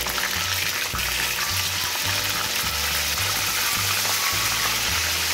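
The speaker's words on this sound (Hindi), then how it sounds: "अब इसी तरह मैं गोश्त को फ्राई कर लूँगी" Meat for chicken karahi fries in hot oil with a dense, steady sizzle, and rhythmic low thumps of garlic and ginger being pounded nearby sound through it.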